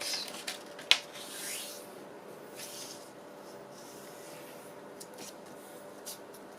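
A pocket journal page of paper being folded and creased by hand, an opening sharp crinkle and snap followed by soft rustling and brushing strokes, close and quiet with no voice.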